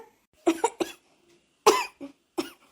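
Several short, sharp coughs from a person with cough, fever and cold, in two bursts, close and fairly loud, with brief silences between them.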